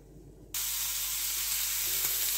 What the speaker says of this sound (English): You know, you need to get that good sizzle.